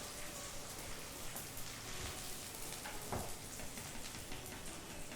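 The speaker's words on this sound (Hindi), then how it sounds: "घी गरम और अब गोंद फ्राई कर लेते हैं।" Gond, the edible gum, frying in hot ghee for winter pinni, giving a steady dense sizzle with crackling pops throughout, fairly close and even in level.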